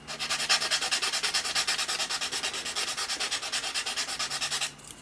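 A rough sanding stick rubs back and forth over a plastic part of a Tamiya 1/32 F-16CJ model kit, a rapid, even rasping rhythm of about twenty strokes, close and steady, that stops abruptly near the end.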